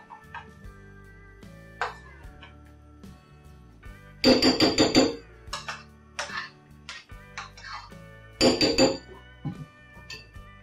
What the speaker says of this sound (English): I'm just going to scrape some off into it.